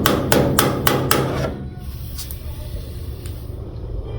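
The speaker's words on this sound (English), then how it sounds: "My hammer with a bigger head so you don't miss." A hammer strikes metal during bodywork on a 1950 Ford F1 pickup bed, five sharp ringing blows in quick succession, then a pause and a couple of lighter taps.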